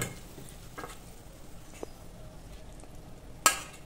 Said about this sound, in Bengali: সব মাছগুলো আমি ছেড়ে দিচ্ছি।